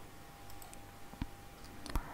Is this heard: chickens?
no